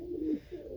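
Racing pigeons give a soft, low coo that swells and fades, then a second coo follows close by with nothing else sounding.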